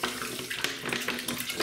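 Water poured from a tap into paint to thin it for deep priming and ceiling painting, a steady close splashing run with small bursts and no voices.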